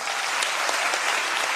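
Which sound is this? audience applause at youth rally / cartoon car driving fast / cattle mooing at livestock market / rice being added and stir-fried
audience applause at youth rally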